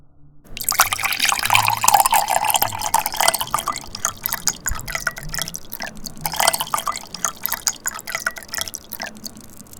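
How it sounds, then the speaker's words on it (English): Fresh golden coconut water poured out of a coconut, about 20 ounces, with a steady close splashing and dripping stream that runs for nearly ten seconds, getting a little softer and more broken toward the end. "So let's pour."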